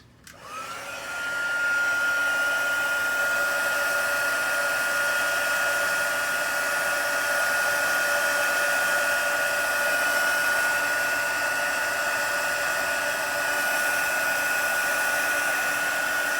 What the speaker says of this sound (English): I'm going to come in with my heat gun and heat this all up